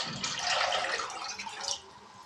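About 1.5 litres of water poured into a cooking pot for soya keema biryani, a steady splashing stream that runs for nearly two seconds and then cuts off, close and moderately loud, with no talk.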